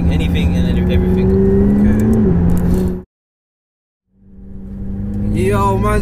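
A McLaren 675LT supercar with an upgraded kit accelerates hard, its loud engine climbing in pitch, cutting out abruptly into a second of silence, then surging back with rising revs.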